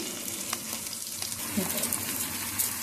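Potato popsicles fry in hot oil with a continuous soft sizzle and bubbling crackle, close and fairly quiet, with light stirring noises.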